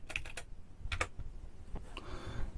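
Typing on a keyboard bought from AliExpress, with bursts of quick close key clicks and short pauses between them, steady and moderately loud in a quiet room.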